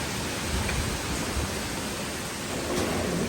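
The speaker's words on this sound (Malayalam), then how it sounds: "നല്ല കാറ്റും നല്ല മഴയും" Steady, dense rain roars without a break, with a low rumbling underneath like wind gusting, continuous and fairly loud.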